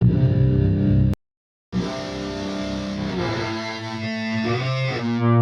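A heavily distorted electric guitar, run through an impulse response plugin, plays sustained, buzzing chords with a filtered, boxy tone, cutting out briefly before ringing on.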